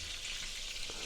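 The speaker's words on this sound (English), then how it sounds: "I'm going to finish off frying these off" Burgers fry in a pan with a steady, faint sizzle, a soft even hiss that runs unbroken and alone.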